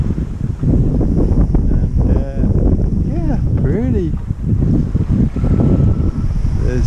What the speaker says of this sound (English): There's just 12 knots of wind, and it's from behind.